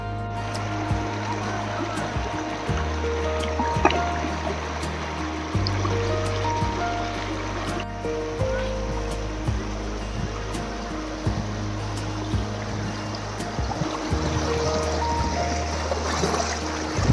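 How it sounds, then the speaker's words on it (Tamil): River water flowing steadily in a green forested valley between hills near Chittur in Attappadi, a continuous rushing wash heard up close and fairly loud throughout, with no pauses. "ஆற்று தண்ணி தாங்க."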